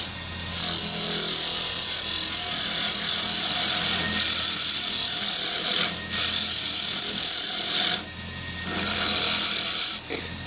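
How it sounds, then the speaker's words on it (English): A round nose scraper works across the face of a wooden medallion spinning on a lathe, giving a loud, steady broadband scraping hiss in long sustained passes separated by brief pauses. "I got the round nose scraper, just using it as a scraper, kind of clean the face up"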